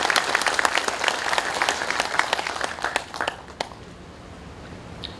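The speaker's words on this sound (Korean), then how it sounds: "김용인 중앙교회장님께 다시 한번 큰 박수 부탁드리겠습니다" An assembly audience at a national general meeting of a police veterans' association gives a big round of applause, many hands clapping briskly before thinning into scattered last claps and quiet.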